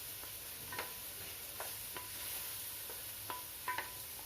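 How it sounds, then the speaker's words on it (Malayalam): Washed rice frying in ghee in a pan for pomfret biryani, with a faint, soft sizzle and several light scraping stirs of a spoon at irregular intervals, quiet and close, no talking. "എന്നിട്ട് ഈ അരി ഒന്ന് നന്നായി വറുക്കണം."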